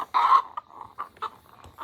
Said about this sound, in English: I think this chicken is the chicken that's been eating them.